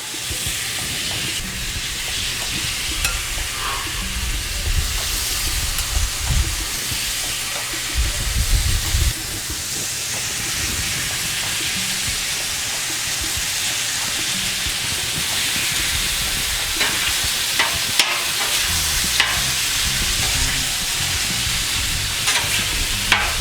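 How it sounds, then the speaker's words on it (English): Marinated beef with plum sauce sizzles and hisses loudly on a 36-inch Blackstone griddle, with a steady frying roar broken by scraping and stirring clatter from a spatula, and no voices. "So we're gonna get our nicely marinated meat. Go ahead and drop it down."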